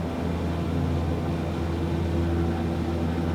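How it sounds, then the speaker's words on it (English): Beechcraft Starship engine spinning up in Microsoft Flight Simulator, a steady droning hum with whining fan tones that holds at an even level throughout. "start it up, and as you can hear, fans have started, the aircraft is coming to life"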